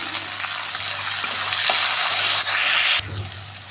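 Onion, green chili and tomato fry in a pan for a breakfast upma, producing a loud, steady close sizzle that drops abruptly at about three seconds to a quieter hiss with a stirring scrape.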